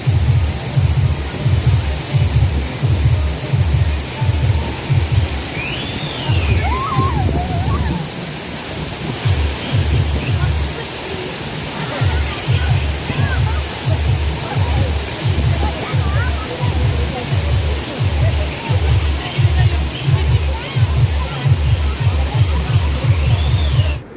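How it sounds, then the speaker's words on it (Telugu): A waterfall in Kerala roars as a constant broad rush, heard under a thumping, rhythmic DJ music beat with voices talking nearby. "విన్నారు కదా ఆ సౌండ్స్, వాటర్ సౌండ్."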